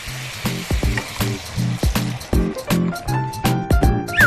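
Beef fries for a beef rice bowl as prepared broth goes into the pan: loud, steady sizzling with rhythmic clanks and scrapes of stirring, and a brief rising whine near the end.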